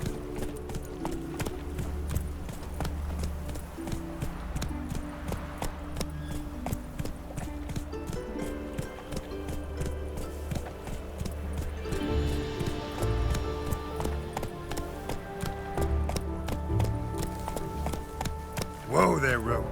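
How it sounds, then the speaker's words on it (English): In The Witcher 3, a horse gallops with rapid, continuous hoof clip-clops over game music and ambience, close and steady throughout, ending with a brief louder rustle. "Whoa there, Roach."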